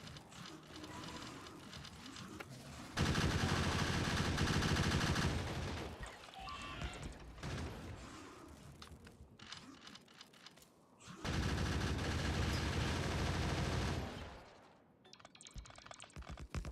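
Turrets firing in the video game Factorio, two loud sustained bursts of rapid automatic gunfire separated by quieter stretches of clicking and rattling game sounds.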